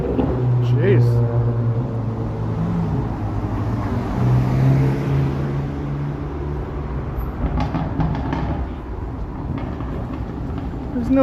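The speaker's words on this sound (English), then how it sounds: "There's no need to have your car sound like that." A loud car engine revs on a busy Toronto city street, a steady roaring drone with rising pitch that holds for several seconds amid traffic noise.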